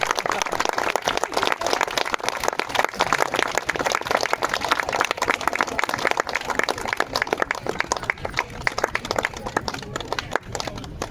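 An audience claps continuously in a dense, even crackle of many hands that holds at a steady level throughout, with no pauses.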